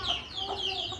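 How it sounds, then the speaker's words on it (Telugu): Chickens and young chicks cluck in a brief, faint burst of soft calls and peeps. "కోళ్ళు చిన్నపిల్లలు పెద్దవి అన్ని కోళ్ళు ఎలా ఉన్నాయో."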